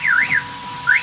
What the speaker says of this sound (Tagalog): Accent Hyundai Solution Car Alarm